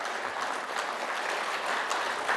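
Applause from an audience at the founding general assembly of an international interreligious union, welcoming a senior priest as he is introduced. Dense, steady clapping fills the whole stretch with no pauses, moderately loud and heard from within the hall.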